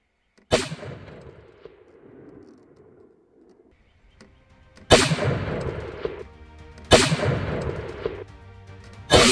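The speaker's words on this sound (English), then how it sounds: "I shot him from across the canyon way over there." Rifle shots fired at a buck across a canyon while hunting: three sharp, loud cracks spaced a few seconds apart, each followed by a rolling echo that fades across the open terrain.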